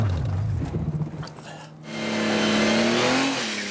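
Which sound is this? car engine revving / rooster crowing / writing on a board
car engine revving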